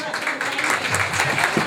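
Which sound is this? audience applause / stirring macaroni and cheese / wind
audience applause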